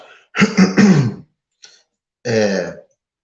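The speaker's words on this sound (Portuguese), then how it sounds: "Peço desculpa também para esses pigarros e coisa do tipo" A man with a cold or flu clears his throat in close, loud bursts: a rough double rasp, a tiny faint catch, then one more gravelly clearing, with silence in between.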